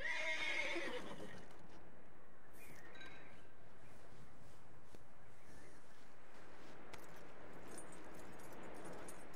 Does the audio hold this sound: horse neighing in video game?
yes